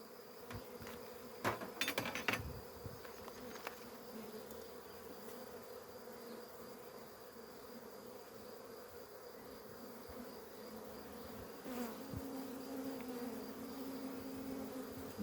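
Honeybees hum steadily around an open hive frame of capped brood, a continuous low buzz with a few sharper passes of individual bees close by, no talking.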